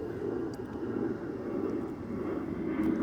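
An airplane that has just taken off in Sri Lanka drones as a steady distant roar, continuous and moderately loud throughout.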